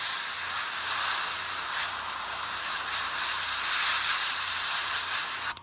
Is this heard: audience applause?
no